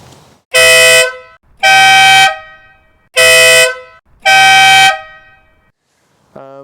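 Four loud, sustained blasts of an Aston Martin horn fitted as an aftermarket swap against a BMW factory horn, each blast about a second long with short gaps, then the start of a fifth at the end.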